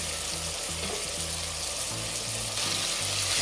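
Chicken liver browning in a frying pan for Jamaican brown stew, giving a steady close sizzle and crackle with a low hum running underneath, and no talking.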